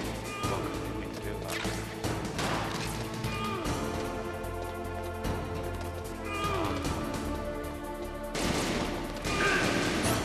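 Dense, loud gunfire from the video game Metal Gear Solid, rapid bursts and repeated shots with crashing impacts over a steady game soundtrack, with a player talking now and then.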